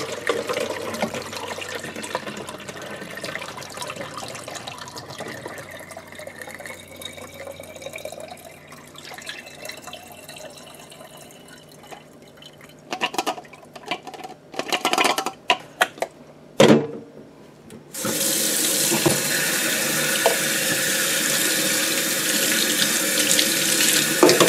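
Water runs from a tap into a sink while developed vintage 116 panchromatic film is washed, with a steady flow, splashing bursts midway, and a stronger, louder stream toward the end.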